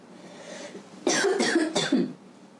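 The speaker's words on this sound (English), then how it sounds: "It is dangerous to cough in a twist" A person on a yoga mat during a morning session coughs about three times in quick succession, close and moderately loud, after a quiet stretch.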